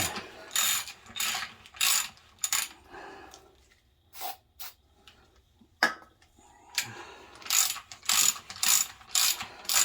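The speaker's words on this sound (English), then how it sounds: "I need a bigger ratchet than that." Ratchet wrench clicking on an engine bolt during a Honda K24-A2 swap into a Toyota MR2, bursts of rapid clicks separated by pauses and scattered clanks, close and clear.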